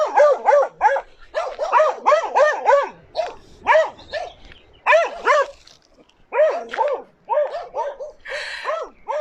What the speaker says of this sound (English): A dog appears behind you.